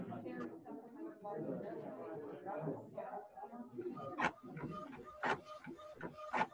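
An office printer runs through copies with rhythmic mechanical clacks and whirs, first under a person talking, then more exposed with repeated sharp feed strokes.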